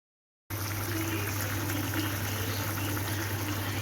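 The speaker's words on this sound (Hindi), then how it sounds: "अब इसमें बॉयल्स आ रहे हैं" Marinara sauce bubbles and simmers in a pan while reducing, giving a steady, close hiss and crackle of boiling that starts abruptly after a moment of silence and continues evenly.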